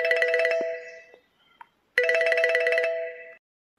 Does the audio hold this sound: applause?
no